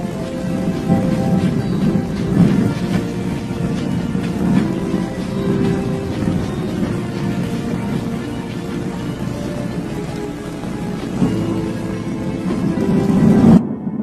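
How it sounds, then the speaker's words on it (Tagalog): Heavy rain pours in a steady, loud roar while deep thunder rumbles throughout, building into stronger swells near the end, with no voices. "ang lakas ng ulan"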